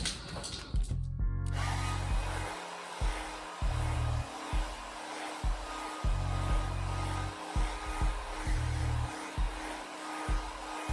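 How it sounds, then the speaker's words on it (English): Hair dryer used to warm vinyl upholstery for embossing a sun visor on a 1936 coupe, a steady whoosh repeatedly cut on and off in short bursts and pauses. "Okay, now hair dryer."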